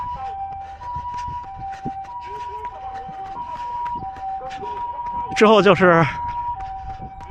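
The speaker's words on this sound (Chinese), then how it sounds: "救护车！" An ambulance siren rises suddenly near the end with a loud, wavering wail lasting under a second. Before it there is steady outdoor noise, a faint tonal hum and some talking.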